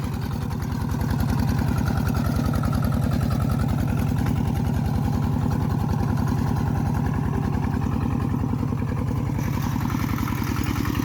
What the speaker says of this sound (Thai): ดีแต่ว่ามันรถไถไถง่าย